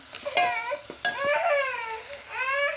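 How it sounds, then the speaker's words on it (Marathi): Steamed goat mutton is stirred and sautéed in masala in a pan, giving a low sizzle and a couple of sharp scraping knocks. A wavering voice rises over the cooking noise. "इथं मी मसाल्यामध्ये परतून घेऊ राहिले"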